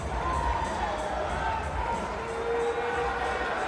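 Spectators cheer and roar at an indoor arena football game between the Arizona Rattlers and Northern Arizona Wranglers, a continuous crowd din near the goal line with whistles and voices mixed in.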